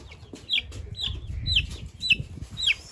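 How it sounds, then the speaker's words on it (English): A young chicken chick peeps repeatedly, about five sharp, high chirps spaced roughly half a second apart, close by over soft low handling noise. "Can I hold my chicken?"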